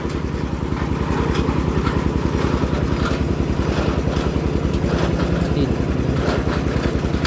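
Engine-driven drilling machine boring a well, a loud, steady, rapidly pulsing motor chugging close by without a break throughout.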